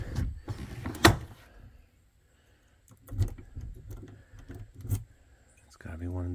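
A bunch of property keys jangles and clinks in a few short, sharp bursts separated by quiet gaps, close by, with a door lock being worked and brief speech in the background.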